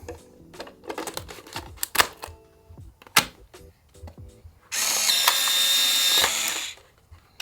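A used film cartridge is handled in an instant camera, with a run of sharp plastic clicks and latch snaps followed by a loud motorized whir lasting about a second and a half.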